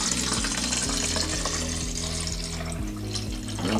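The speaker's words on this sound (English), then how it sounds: "I'm gonna fill up the water bottle" Water poured from a pitcher into a 700 ml fruit-infuser water bottle, a steady close splashing trickle running continuously without speech, with a faint rising fill tone.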